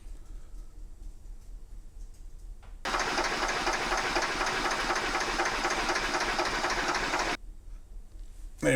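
Russell Newbery DM2 diesel running inside the engine room of a 70-foot 1983 Les Allen traditional narrowboat, a steady loud knocking chug that starts abruptly, holds for several seconds, then cuts back to quieter background.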